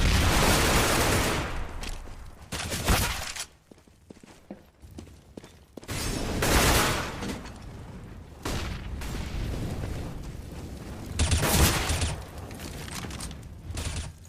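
In a Counter-Strike match, grenades and Molotovs burst among loud, dense rattles of gunfire. Heavy blasts come in bursts between quieter gaps.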